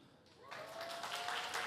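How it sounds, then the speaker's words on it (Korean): A church youth worship congregation breaks into applause after a brief quiet moment, with fairly soft, even clapping that continues to the end. "아니 저 박수 받고 싶은 마음이 전혀 없었는데"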